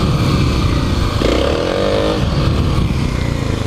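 Kawasaki KLX300 dirt bike accelerating over mud beneath a thin layer of carpet, a loud close engine whose revs rise sharply mid-way and then hold a steady buzzing drone, with no talking.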